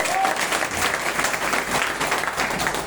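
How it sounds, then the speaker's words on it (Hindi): Crowd at an event gives loud, dense applause for the stars, a steady wash of clapping filling the whole short stretch with no break. "एक बार सभी स्टार के लिए जो है जोरदार ताली"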